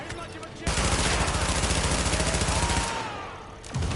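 SMG fire in the video game The Division comes as one rapid, loud, sustained burst lasting a few seconds, then cuts off and leaves quieter game ambience on either side.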